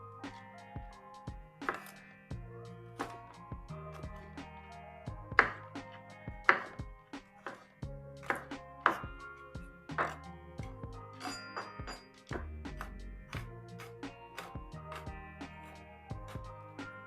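A kitchen knife chops fresh garlic on a cutting board, a long run of crisp, close knocks and thunks in uneven bursts, with a few sharper clinks among them and no talking.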